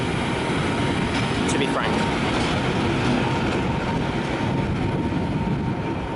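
Train coaches, a mix of Hungarian and other countries' stock, rolling steadily through Budapest Keleti station, a continuous broadband rumble with faint clatter, while a voice talks over it.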